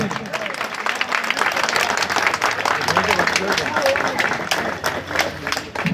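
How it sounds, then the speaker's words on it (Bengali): An audience at a flower-bouquet welcome ceremony claps in sustained, dense applause, fairly near, with voices talking over it. "সবাই মিলে একটু করতালি দিয়ে অভিনন্দন জানাবেন"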